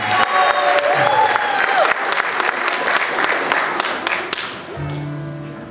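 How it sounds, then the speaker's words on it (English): A congregation at Kol Chadash in Solon, Ohio, applauds loudly with some cheering, a dense steady clapping that fills the room before fading as music begins near the end. "Y'all make some noise for Nicole"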